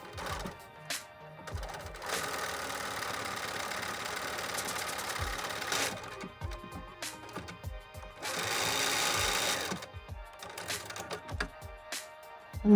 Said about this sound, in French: on va assembler à la machine